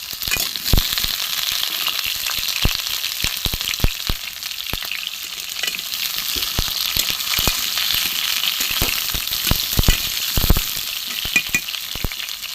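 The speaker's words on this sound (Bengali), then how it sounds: "একটু কড়া করে ভেজে নেব" Pointed gourd (potol) pieces frying crisp in oil in a pan, a loud continuous sizzle peppered with frequent sharp pops and crackles, with occasional clinks of stirring, heard close and without talk.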